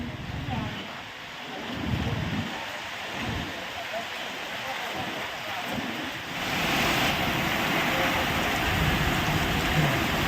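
Heavy rain pouring steadily with gusting wind during a storm in Bihar, India, a dense continuous hiss that swells louder partway through; faint voices are buried beneath it.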